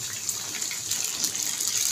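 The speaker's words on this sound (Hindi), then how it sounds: "अब हम इसमें 1 कप भर के पानी ऐड कर देंगे" A cup of water poured into a pan of frying potato slices for a spicy Hyderabadi aloo dish gives a steady hissing, gushing rush of liquid, continuous and fairly loud throughout.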